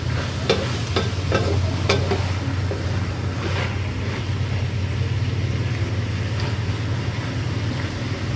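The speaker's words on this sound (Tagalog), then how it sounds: "Akin po muna hahaluin para po hindi masunog." Chicken liver and gizzards sautéing in a pan and being stirred, a steady close sizzle with scattered utensil scrapes and clicks in the first few seconds.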